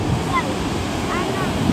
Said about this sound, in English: we are at the Varca beach and the act of making a sand castle is in process.